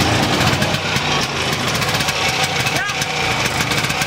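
A Piaggio Ape MP's small engine idles steadily after a carburetor repair, a close, even putter with rapid regular pulses, while someone speaks briefly over it.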